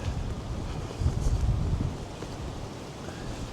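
Strong wind buffets a camera microphone outdoors beside the Battleship New Jersey, a loud low roaring rumble that surges for a moment and then settles back, with no talking.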